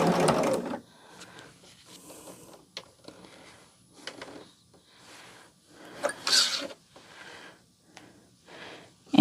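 A domestic sewing machine joins fabric pieces in short bursts of stitching with pauses and handling clicks between runs, close and moderately loud, no talk.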